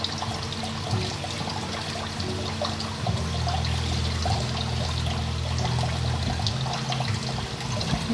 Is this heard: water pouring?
yes